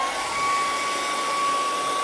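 A hair dryer blows steadily on a freshly painted river scene, a constant close airflow hiss with a thin steady whine, loud and unbroken throughout with no talking.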